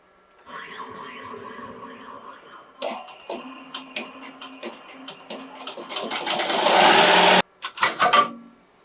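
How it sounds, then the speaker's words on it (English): A Melco embroidery machine stitches a zigzag appliqué border on thin fabric, its rhythmic needle clatter building to a loud steady run, with a voice talking early on. "so that's the stitch that it did around the U. It's not a heavy stitch, it's just kind of a zigzag."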